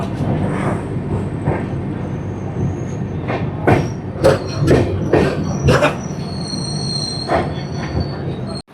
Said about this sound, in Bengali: 2 নম্বর প্ল্যাটফর্মে ট্রেন ঢুকিয়েছে